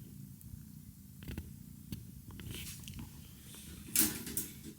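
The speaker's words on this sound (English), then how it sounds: "She's purring." A contented cat purrs steadily up close while stretching indoors, a low continuous rumble with a brief louder rustle near the end and no talking.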